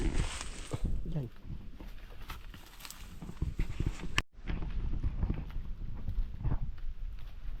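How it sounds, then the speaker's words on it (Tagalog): A horse clip-clopping steadily on foot, hooves thudding close by through the whole stretch over rough outdoor noise, with a brief dropout midway; people talk in the background. "Narin yung kabayo."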